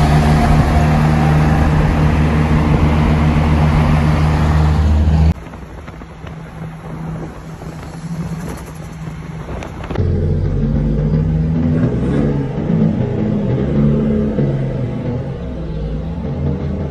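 A Nissan 240 drives on the road toward Long Beach, its engine a steady, loud, close rumble with wind noise throughout and a shift in tone partway through as it accelerates.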